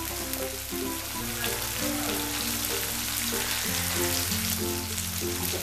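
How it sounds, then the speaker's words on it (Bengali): Chopped onion and garlic sizzle steadily in a hot pan for a country-style chicken dish, a constant close frying hiss with faint low hum underneath and no voices. "রসুন দেওয়ার পরে আমি পেঁয়াজ কুচি দিয়ে দিচ্ছি"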